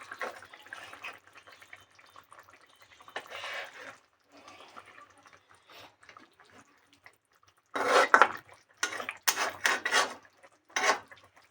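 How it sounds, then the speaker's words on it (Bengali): A lid comes off a pan and an egg chaap is flipped while cooking, giving soft scraping and rustling at first, then a louder burst of metallic clatter and sizzling scrapes toward the end. "এবার ঢাকাটা খুলবো আমি খুলে একবার উল্টিয়ে দেবো"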